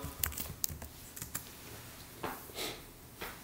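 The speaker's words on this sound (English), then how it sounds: "Type in your password." A password is typed on a Mac computer keyboard close to the microphone, with a quick irregular patter of key taps, some sharper strikes, and a few soft breathy sounds between them.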